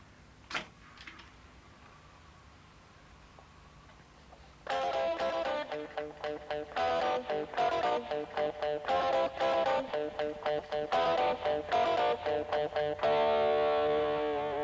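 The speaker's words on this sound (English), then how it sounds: "I'm going to add a second one now with the help of a bit of distortion" A distorted electric guitar, recorded as a second overdubbed track, kicks in after a few quiet seconds, playing loud, rhythmic chords with choppy, repeated strums through to the end.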